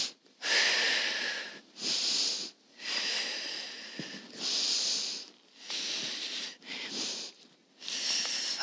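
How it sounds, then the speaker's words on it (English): Deep, slow breathing during a roller skating warm-up, heard alone and close: a series of long, airy inhales, each followed by an exaggerated, breathy exhale, with short gaps between them. "we're going to take a nice big inhale, and we're going to exaggerate the exhale to practice big, deep breathing"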